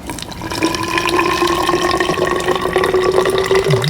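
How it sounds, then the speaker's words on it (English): Water pours steadily into a Spartan Mosquito Eradicator container, a continuous rushing stream with a slowly rising tone as it fills about halfway, no voices. "I'm going to fill it about halfway"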